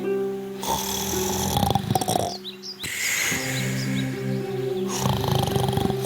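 A wolf sleeping under a tree in a yard snores in long, loud, rasping breaths, with low droning tones, two snores separated by brief quiet gaps and a few chirpy squeaks between them, stylized like a cartoon.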